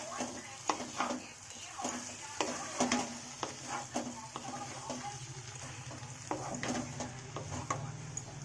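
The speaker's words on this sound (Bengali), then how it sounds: "আর এবার এটা একটুখানি নেড়ে নেব।" A hilsa fish head with cabbage and mustard oil is stirred in a pan just off the gas. A light sizzle runs under repeated scraping and clinking strokes of a spoon against the pan.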